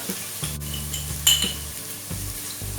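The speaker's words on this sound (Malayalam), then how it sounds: "1 ടേബിൾ സ്പൂൺ കുരുമുളക് പൊടി ചേർത്ത് നന്നായിട്ടൊന്ന് ചൂടാക്കിയെടുക്കാം" Chilli powder, mutton masala and pepper powder being fried for a spicy Kerala mutton roast, with a steady low sizzle, a spoon scraping and stirring against the pan, and one sharp metallic clink midway.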